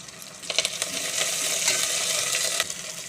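Onions saute in a pan with dried red chillies, curry leaves and coriander for a cabbage and moong dal poriyal, giving a close, continuous sizzle broken by sharp clicks and scrapes of stirring, with no voices.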